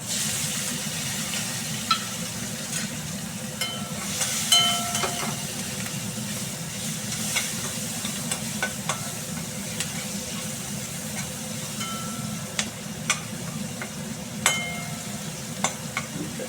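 Cumin seeds, bay leaves and onion fry in hot oil in a pan, giving a steady close sizzle broken by scattered spatters and crackles, with no talk.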